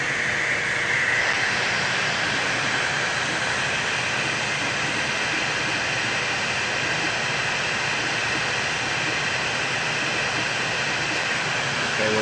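A Yeti SmartBench CNC router cuts thin Rowmark plastic held down with tape and CA glue. It makes a continuous, even rushing hum that stays steady at one level throughout, with no talking.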